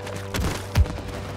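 Gunfire in the co-op game It Takes Two, two muffled shots a moment apart, the second a heavier thump, over steady game background sound.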